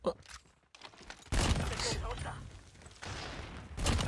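Gunfire from a Call of Duty Mobile match: bursts of shots and loud impacts come in clusters with a gap, mixed with game noise and occasional footsteps.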